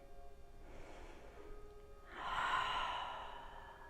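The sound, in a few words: exhaling through open mouth during yoga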